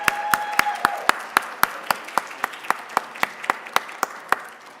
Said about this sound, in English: Let's give another round of applause to all our speakers.